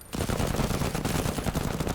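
Rapid gunfire salvo in the video game MENACE, a dense, loud burst of automatic shots firing continuously for about two seconds right after a short quiet start.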